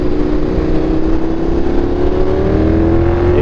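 A KTM 1390 R Evo motorcycle's exhaust roars steadily under load, a loud close engine drone with a slowly rising pitch as it accelerates on the road.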